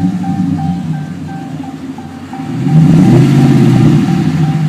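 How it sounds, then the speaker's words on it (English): A RAM 1500 pickup's engine idling through a Spintech exhaust, then rising into a brief, restrained rev with a deeper, louder rumble in the second half, heard close by outdoors. "I won't rev it too loud because I'm in a very public place"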